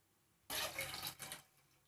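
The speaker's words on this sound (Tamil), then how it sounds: "இதோட 2 கப் தண்ணி சேர்த்துக்கோங்க." Water pours into a pan of milk while making rava payasam, a sudden close splashing gush that lasts about a second, dips briefly, then tapers off.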